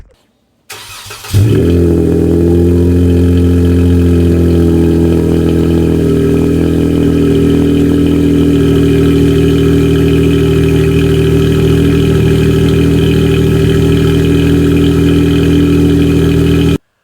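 A Dodge Challenger fitted with an MBRP exhaust system fires up and settles into a loud, steady, deep idle close by, rumbling evenly with no talk over it.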